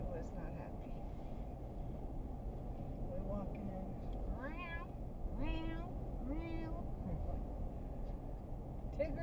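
A cat meows several times in short, insistent cries inside a Toyota Sienna over a steady low background rumble, with some human speech mixed in.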